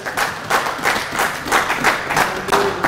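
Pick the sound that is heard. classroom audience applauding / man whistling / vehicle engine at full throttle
classroom audience applauding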